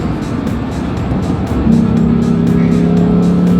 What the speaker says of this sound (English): I see you can hear it limiting it, it cuts it off.